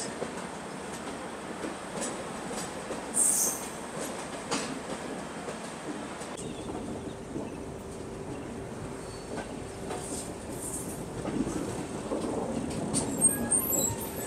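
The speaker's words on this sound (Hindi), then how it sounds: "north east express Bongaigaon railway station पे अपनी ट्रेन आई है प्लेटफॉर्म नंबर 3 पर" The North East Express from Kamakhya rolls into platform 3 at Bongaigaon railway station, a steady rumble of carriages with wheel clicks and brief squeals, heard up close throughout.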